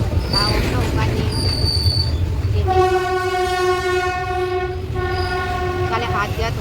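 A train on a journey, loud rolling rumble of wheels with a long steady horn blast sounding midway, plus shorter tonal squeals before and after, no talk.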